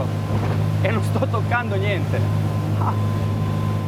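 A SWAN Overshadow motorboat's engine drones steadily as the hull runs across water, with a person talking over the constant hum.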